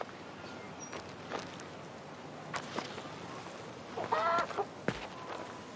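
A green chick cheeps from inside a barrel in the King's Bounty 2 video game, a short cluster of high chirps amid footsteps and faint ambient noise, with no talking.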